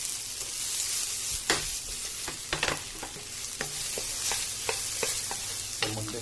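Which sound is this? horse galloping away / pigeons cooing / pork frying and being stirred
pork frying and being stirred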